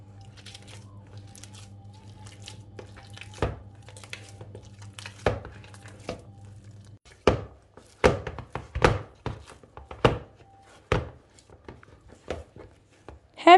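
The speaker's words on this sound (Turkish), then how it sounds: "Elinize hafif suyu alın ve bu şekilde hamurunuzu yoğurmaya devam edin" Soft, slightly sticky whole wheat bread dough is kneaded by hand with wet hands, giving a series of close, irregular dull thumps and squishy slaps, sparse at first over a low steady hum and then coming in quicker succession.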